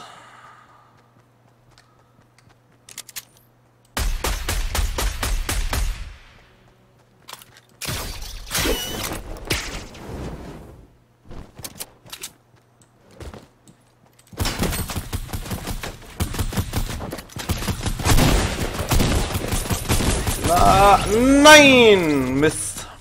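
Gunfire from the video game Fortnite, a few sharp bursts scattered among loud game effects, with someone talking over much of the action.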